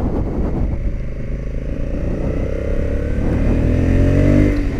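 A 2021 Honda Africa Twin motorcycle ridden hard on a race track, its engine droning loud and steady from close by with a rising rev toward the end, no talk over it.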